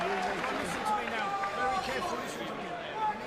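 At a boxing match in Essex, the home crowd roars and cheers steadily after a Tyson Fury v John McDermott fight. The crowd noise is dense and sustained, and a commentator's voice runs over it.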